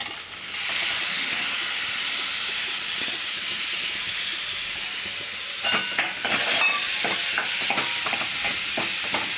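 Moong dal is stirred and fried in spiced oil with chili and coriander: a continuous close sizzle, then rhythmic stirring scrapes and clatters in the second half, with no voices.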